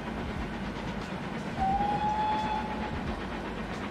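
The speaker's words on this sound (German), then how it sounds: "Und bitte pfeif mal, wenn du da vorbeifährst." A passing train in the Transport Fever 2 video game sounds a single clear whistle lasting about a second over a steady rolling rumble of wheels on track, no talk.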